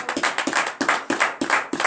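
Church congregation clapping in rhythm during a night deliverance service, a steady series of sharp claps repeating about every third of a second, fairly loud and close, with no talk over it.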